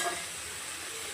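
Tomato frying in oil for a drumstick (nuggekai) dish, a soft steady sizzle with a light hiss throughout, no voices.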